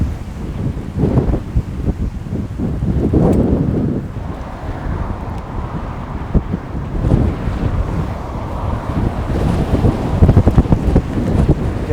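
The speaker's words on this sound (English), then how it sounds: "It is unbelievably windy here." Strong, steady wind buffets the microphone while bicycling in East Clark, producing a loud, continuous low roar with gusty surges and no speech.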